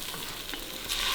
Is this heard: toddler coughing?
no